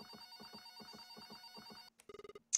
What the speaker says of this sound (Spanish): El teléfono está sonando.